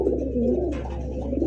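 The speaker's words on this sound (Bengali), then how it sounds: "বাকবাকুম ডাক।" Native Gola pigeons cooing close by, a continuous low, rolling coo with no talk over it.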